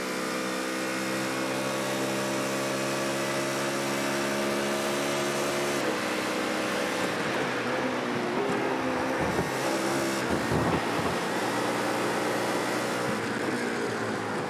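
Race cars in a DNLS sim race on the Nürburgring Nordschleife, a steady engine drone with shifting revs and passing cars throughout, loud and continuous with no talk.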